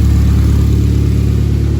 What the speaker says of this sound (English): Excuse the exhaust, that's just the gasket that I still gotta replace.